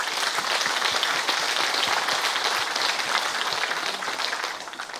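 A gathered crowd at a Buddhist book-launch ceremony gives sustained applause of encouragement for a retiring teacher, dense and even clapping that holds steady and then thins and fades near the end.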